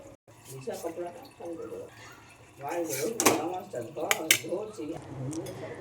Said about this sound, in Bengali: এবারে ঢেলে নিচ্ছি অন্য আর এক পাত্রে।